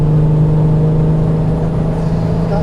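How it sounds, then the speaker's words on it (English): Turbocharged 3.6-litre VR6 in a VW Tiguan R36, a loud close engine drone holding a steady pitch under load with a slight dip near the end, no voices. "It's the noise that it makes, like the build up of the R32 engine, the R36, any VR sounds wild as it is."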